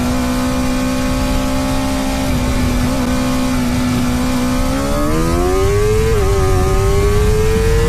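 A sport motorcycle engine, a Suzuki GSX-R 750 or Honda Fireblade 1000 in a drag race, drones steadily at high revs, then climbs in pitch as it accelerates through the last few seconds, loud and close with no talk.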